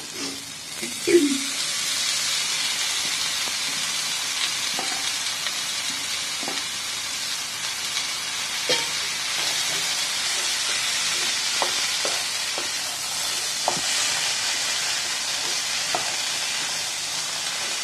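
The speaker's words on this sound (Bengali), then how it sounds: "মশলাটা কষা হয়ে গেছে, এর মধ্যে দেবো সেদ্ধ করে জল ঝরানো ডুমুরগুলো।" Boiled, drained figs sauté in a cooked-down spice mix, producing a steady, moderately loud sizzle with scattered scraping and clinking as the spatula stirs them, and no voices.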